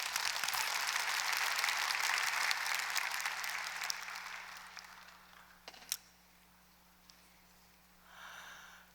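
A church congregation applauds during a service, a dense burst of clapping that starts loud and steadily fades over several seconds, followed by a few scattered claps and near silence.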